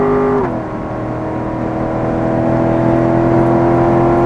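A race car engine on a track drones loudly and close, dropping sharply in pitch once as the driver upshifts, then holding a steady, even tone. No one speaks.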